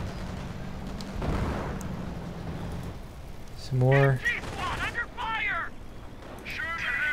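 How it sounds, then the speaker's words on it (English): Mortar rounds exploding in a World War II strategy game match, a low rumbling boom rolling under battle noise early on, followed by a voice talking over the action. "Mortar rounds coming down on the other side."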